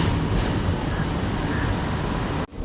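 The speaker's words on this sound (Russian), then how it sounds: "Подъезжают электрички." Driverless electric commuter trains pull into a metro station in Kuala Lumpur with a dense, steady rushing rumble. The sound is loud and close and cuts off abruptly at the end.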